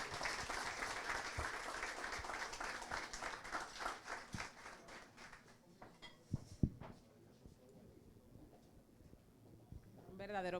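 An audience at a talk on José Francisco Peña Gómez's legacy breaks into dense, quiet applause that rolls on for several seconds, then thins to scattered claps and fades, with a voice starting up at the end.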